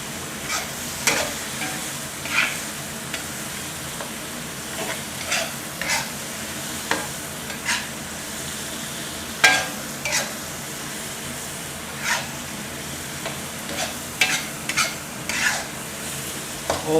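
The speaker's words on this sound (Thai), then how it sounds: "ผัดไฟแรงๆผัดเร็วๆนะครับ" Squid stir-fried with chili paste over high heat crackles in a pan under a soft continuous sizzle, punctuated by repeated quick scraping and clanking strokes of a spatula every second or two, with no talking.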